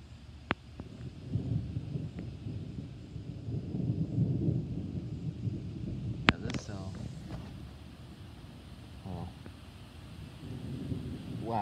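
A thunderstorm to the south gives off low, rolling thunder that rumbles continuously, with wind buffeting the microphone and a couple of sharp crackling strikes partway through.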